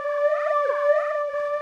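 A sampled flute note run through a Kontakt flanger with high feedback, speed and depth raised, one steady sustained tone smeared by fast swooping, whistling comb sweeps that rise and fall throughout, heard alone.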